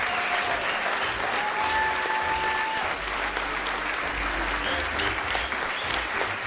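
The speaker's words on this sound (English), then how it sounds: "Can we just give them another round of applause" A theater audience gives sustained, steady applause for a show's cast, a dense wash of clapping that fills the room at moderate volume and continues throughout.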